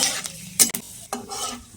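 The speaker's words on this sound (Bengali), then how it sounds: "শুকনো লঙ্কাটা হয়ে গেছে পাঁচ ফোড়ন দিয়ে দেবো দিয়ে দিলাম পাঁচফোড়ন" Short bursts of sizzling and stirring as dried red chilli and five-spice seeds fry in oil in a hot pan, with a couple of sharper scraping hits, close and moderately loud.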